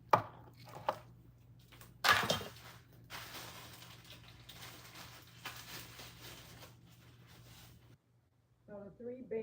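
A knife chops onions into rings on a board for Escovitch fish, giving a few sharp close cuts followed by a long stretch of steady rustling slicing, with brief voices at the end.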